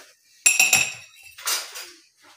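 Dishes and cutlery clink while coffee is made late at night, a quick cluster of bright metallic chinks followed by a softer scraping clatter, close and alone.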